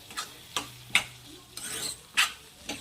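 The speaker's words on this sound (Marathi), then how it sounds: "हे बघा छान असं मिक्स करून घ्यायचं" Tinda and lentil curry being stirred in a pan: a series of scraping, sloshing spoon strokes in an irregular rhythm, close and fairly clear, with no talk.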